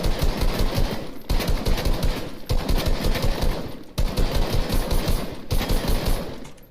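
SMG or AR fire in Fortnite comes in rapid automatic bursts at targets, loud and close, in several sustained strings separated by short pauses.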